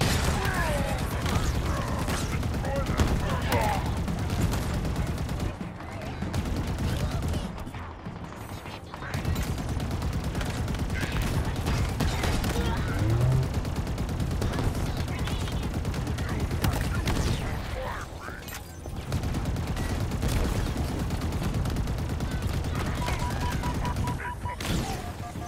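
A mounted turret fires in Halo Infinite in long, dense bursts of rapid shots with mechanical clatter, continuing nearly throughout with brief lulls, and voices are faintly present under the barrage.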